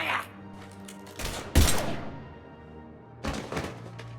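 Gunfire in the Mass Effect 3 video game, a few heavy separate shots and thuds rather than a long burst, each followed by a short ringing tail, over quiet game ambience.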